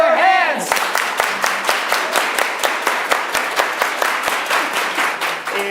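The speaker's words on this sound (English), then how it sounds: "Everybody clap your hands." An improv show audience claps hands together in a steady, even rhythm, many people clapping at once, loud and close, with a few voices mixed in at the start.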